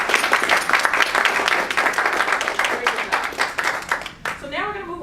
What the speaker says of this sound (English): Can we get a one more round of applause?